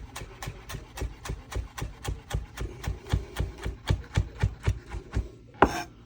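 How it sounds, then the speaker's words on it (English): A knife slicing fresh basil into very thin chiffonade on a cutting board, with a steady, even rhythm of about twenty crisp close chops and no talking. "chiffonade. Very, very thin slices."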